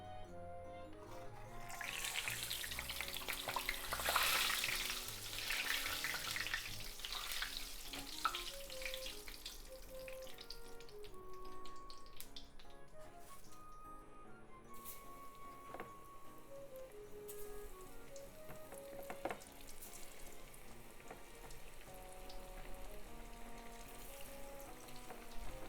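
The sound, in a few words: karaage chicken frying in oil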